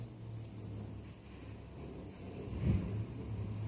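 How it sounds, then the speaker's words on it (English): Garbage truck passing outside, a faint low rumble of engine that swells briefly with a deeper throaty burst partway through, heard from indoors at a distance. "That truck was louder than I expected."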